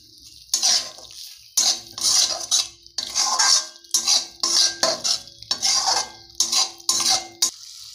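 Eggs being mixed into masala in a pan for egg bhurji gravy, with a utensil scraping and clinking against the metal in about seven distinct bursts of stirring, fairly loud and close, separated by short pauses.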